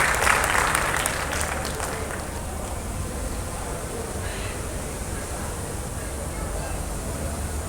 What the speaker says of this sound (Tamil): ஒரு பெரிய கைத்தட்டலோட it's time to welcome Deva sir.